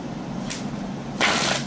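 A deck of tarot cards is shuffled by hand, a quick soft riffle followed by a louder, longer burst of flicking cards, close and quiet with no speech.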